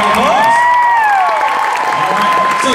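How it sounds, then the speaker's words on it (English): An audience applauds jump rope performers at a workshop previewing their Macy's Thanksgiving Day Parade act in New York City: a steady, dense wash of clapping with a whistle or shout gliding over it. "give a round of applause"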